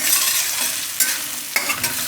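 Methi and peas pulao gets stirred in a pan over a low gas flame, a soft continuous sizzle broken by two sharper scrapes of the spoon, close up with no voices.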